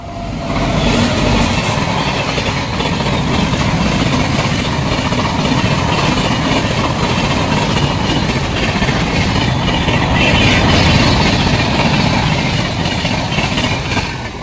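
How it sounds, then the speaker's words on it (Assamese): A train pulls into Dhupdhara railway station in Assam, a steady loud rumble of rail cars with clickety-clack and engine drone filling the whole stretch, nearby and continuous. "ফাইনেলি ট্ৰেইন আহি গ'ল।"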